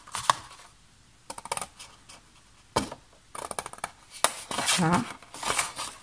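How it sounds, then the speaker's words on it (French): Material for a desk pencil organizer being cut with scissors or a blade, in several short scratchy bursts with pauses between them, close to the microphone, with a voice speaking briefly. "on vient couper jusqu'en bout"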